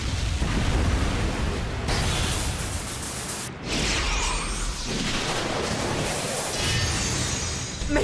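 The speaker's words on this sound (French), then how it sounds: "Toutes les toupies de l'arène ont explosé!" Cartoon explosion of Beyblade spinning tops in a battle arena: loud, sustained broadband blasts and rumbling bursts roll on for several seconds, briefly dipping before surging again, with no voices.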